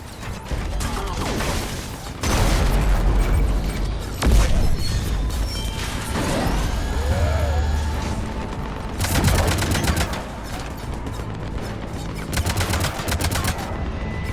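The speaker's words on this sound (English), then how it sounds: "Cannons engaged." Ship-mounted cannons in the Mass Effect 3 video game fire at an Atlas mech, with dense, continuous loud gunfire bursts, mechanical clanks and crashes layered over one another throughout.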